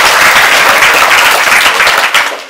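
An elementary school children's choir gives itself a loud round of applause, dense close clapping and cheering that holds steady and then tapers at the end.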